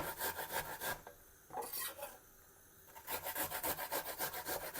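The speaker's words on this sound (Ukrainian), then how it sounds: "Натираю цибульку і знову на терці." Onion grated on a fine kitchen grater for meatball soup: steady rhythmic rasping strokes, close and loud, pausing briefly midway before resuming the same quick back-and-forth scraping.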